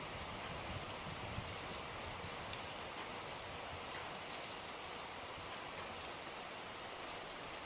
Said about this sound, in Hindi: तो अभी काफी बारिश हो रही है।